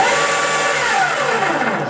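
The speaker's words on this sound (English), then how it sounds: "Reversing from full speed seems to be pretty smooth." An unloaded Sk3 motor driving a BB220 gearbox reverses from full speed, giving a close, smooth whine that sweeps down in pitch and then climbs again.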